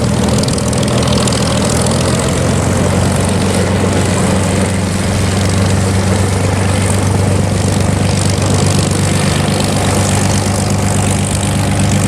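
A propeller airplane taxis nearby at an airfield, its engine droning loud and steady with a low throbbing hum and airy propeller wash that stays constant throughout.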